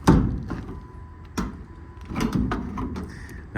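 The metal compartment doors on the utility body of a 2018 International 4400 crane truck are shut, giving several sharp knocks and latch clicks in quick succession, close and fairly loud.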